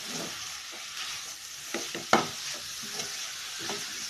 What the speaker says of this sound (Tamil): பீட்ரூட் சேர்த்து நல்லா வதக்கி விடலாம்.